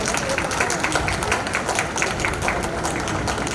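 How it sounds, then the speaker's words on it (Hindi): An audience at a national homoeopathic seminar in Kashipur claps to welcome a minister, a dense, steady patter of many hands continuing evenly throughout at moderate distance. "जब आप वाकई ताली बजा करके अपने मंत्री का स्वागत करेंगे"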